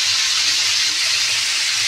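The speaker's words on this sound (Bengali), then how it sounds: "পটলগুলো ভালোভাবে ভেজে নেবো।" Pieces of pointed gourd fry in hot oil, giving a loud, constant sizzling hiss with no voices.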